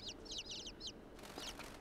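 Small fowl in the video game INSIDE give quick, high clucking chirps in short bursts, with a brief pause before one last call, fairly faint and alone.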